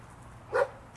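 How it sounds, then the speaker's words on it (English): A single short dog bark, muffled and somewhat distant, rising once over a steady low background hum, with no talking in the moment. "Hang on, the dogs are barking."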